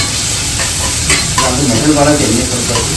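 Chillies frying in hot oil in a pan for a drumstick fry, a continuous close sizzle with some stirring scrapes, loud and steady, with faint voices talking in the background.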